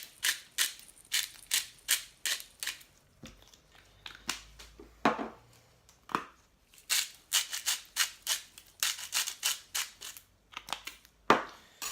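A pepper mill twisted over a goose curry, crunching in rapid ratcheting bursts of grinding clicks, two long runs separated by a few slower turns, close and clear with no talking.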